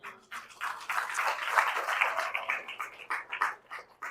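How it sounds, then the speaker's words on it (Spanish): A church congregation claps in short uneven bursts that swell and fade across several seconds, mid-distance and moderately loud, with no clear voice over it. "Dale el aplauso al Señor."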